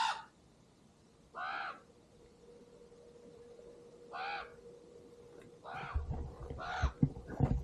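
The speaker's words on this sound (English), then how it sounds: "Two of those crows are right on top of that cliff there now, and they don't like us here" Several crows caw from atop a cliff above a bay near their nest, single harsh calls spaced a few seconds apart, fairly distant over a quiet outdoor background with faint low rumble toward the end.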